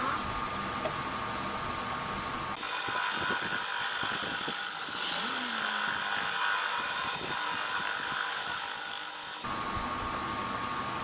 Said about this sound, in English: I'm going to use my skew to plane off and just smooth this out before I start sanding.